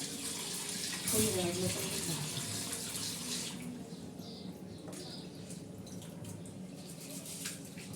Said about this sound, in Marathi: आता हे मस्त स्वच्छ असे तांदूळ धुवून काढते